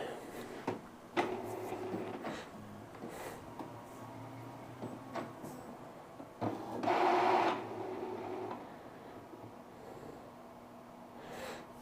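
An Epson L222 inkjet printer powers up with a series of clicks and mechanical whirs, then runs with a louder buzzing motor stretch before settling into quieter ticking.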